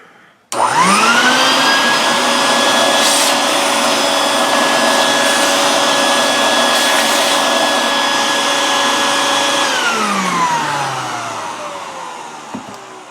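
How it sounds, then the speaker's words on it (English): A shop vac motor starts abruptly and runs at a steady, loud whine with strong harmonic tones for about ten seconds, then spins down and fades out. No one speaks. "Back to the shop vac."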